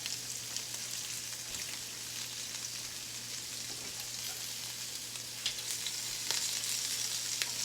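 Sausage fries in a hot pan with a steady, close sizzle and crackle that runs unbroken throughout, with a faint low hum beneath and a few sharper pops near the end.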